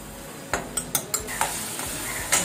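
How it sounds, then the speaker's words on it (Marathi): Ginger garlic paste frying in oil in a kadhai, a soft sizzle under a run of sharp spoon scrapes and taps against the pan, with no talk. "तेल आपण ठेवलेलं आहे कढईमध्ये. आपण आता कालवा करूया. मी आलं लसूण पेस्ट टाकते."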